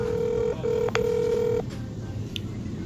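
A phone call is dialed from a yacht in Marina del Rey: a steady tone broken by brief gaps and a few clicks, then fading into a quiet background hum.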